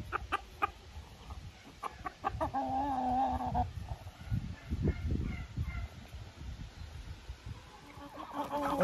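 Hens cluck and murmur close by while pecking at sunflower seeds and a grain mix in a farm poultry yard, with soft rustling and pecking underneath and a brief rooster-like call partway through.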